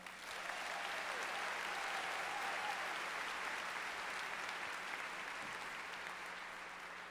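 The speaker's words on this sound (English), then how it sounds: "Let's give a round of applause for the second half of our show" Sustained applause from a fashion show audience, a dense, even wash of clapping that holds steady at moderate distance for several seconds before thinning slightly toward the end.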